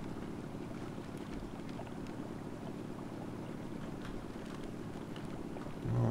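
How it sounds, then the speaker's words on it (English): An outboard motor boat running in the video game Far Cry 3, a steady low engine drone with wind and water wash, continuous and fairly close, swelling slightly louder at the very end, with no talk over it. "An outboard."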